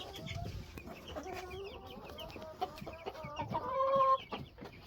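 Several hens cluck and murmur close by in a backyard flock, including a few recently out of broodiness, with soft overlapping calls and a louder burst of clucking near the end.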